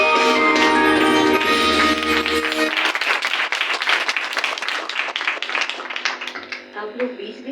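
A church congregation at a Christmas service claps together in a dense burst of applause that slowly thins and fades, with sung or spoken voice at the start.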